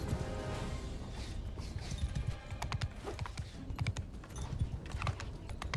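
Horse hooves galloping in Mount & Blade 2: Bannerlord, quick irregular thudding hoofbeats over a loud rumbling battle background, with no talking.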